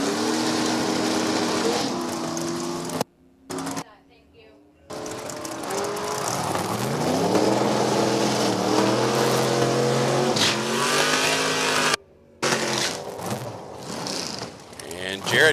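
Drag race cars, among them a 1968 Camaro with a big block Chevy, launch and roar down the strip at an NHRA Division 4 event, engines loud and sustained with brief cutouts, while an announcer talks over them.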